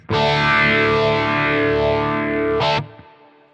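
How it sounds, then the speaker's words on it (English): An overdriven guitar chord sounds through a Quad Cortex modulation effect with the width turned up for a right-left stereo spread, sustained loudly for nearly three seconds with a brief restrike before stopping into a quiet tail. "if I turn up the width, you'll just hear there's more of a right-left stereo effect."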